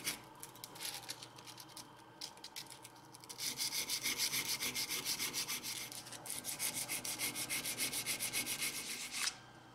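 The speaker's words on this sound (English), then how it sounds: "sanding until the marker disappears, and then sanding with a finer grit" Rhythmic rasping strokes of a metal carving gouge rubbed back and forth on sandpaper, sparse and light at first, then fast, steady, and close.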